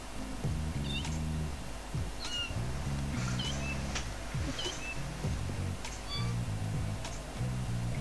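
A cat meows repeatedly in the No More Heroes video game, several short rising calls standing out clearly over a steady, busy backdrop of game music.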